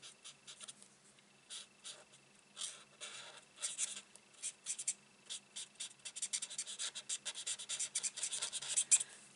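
A marker pen colouring on card with a broken nib, close and quiet: soft scratchy strokes, sparse at first, then quickening into a dense, rhythmic run of back-and-forth scribbling.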